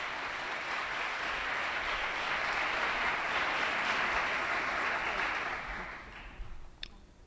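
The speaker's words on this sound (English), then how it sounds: "Please give him a round of applause." Audience applause for the Speaker of the Assembly at a 2011 Chicano Latino Youth Leadership Project youth assembly session, a steady wash of clapping from a crowd in a chamber that holds for about six seconds before thinning out and fading.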